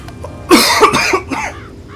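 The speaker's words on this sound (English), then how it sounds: "pop a cough drop in my mouth because I'm coughing" A person coughs several times in quick succession, loud and close, a short harsh burst followed by two or three smaller coughs that fade out.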